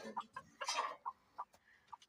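Chickens and a rooster cluck and squawk in short, uneven bursts close by at feeding time, with brief quiet gaps between the calls and one longer, louder squawk.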